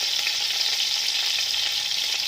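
Onions and carrots fry in a pan with a steady, close, even sizzle and crackle that holds level the whole time, with no voices.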